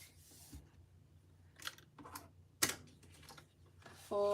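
Paper folded along a score line and burnished for a refillable notebook holder: a few soft crinkles and rubbing strokes, one sharp crisp snap midway, then a brief louder rustle at the end, all fairly quiet and close.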